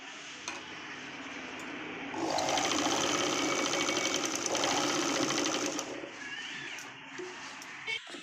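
A sewing machine stitches a Punjabi dress top, running in a steady rapid burst of stitching for about four seconds between quieter pauses, close and fairly loud.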